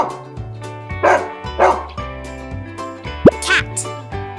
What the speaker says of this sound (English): How does a dog sound?